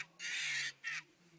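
An Angry Birds plush toy lets out an electronic bird squawk: one long harsh burst and then a shorter second one, close and clear with no talking.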